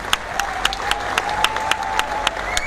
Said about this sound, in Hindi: तो उन सभी नारियों को जोरदार तालियों से स्वागत है।